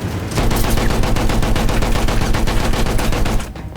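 Dense, loud burst of rapid machine-gun and rifle fire in the World War I shooter Battlefield 1, a continuous volley of shots that cuts off abruptly near the end.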